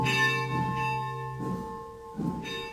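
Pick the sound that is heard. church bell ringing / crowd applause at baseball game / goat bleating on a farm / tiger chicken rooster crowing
church bell ringing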